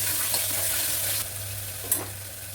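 Tomatoes frying for mutton intestine gravy, a steady close sizzle with a soft stirring scrape partway through and a low hum underneath.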